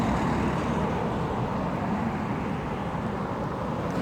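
Steady broadband road noise, a continuous roar of traffic close by without distinct individual passes or any talking.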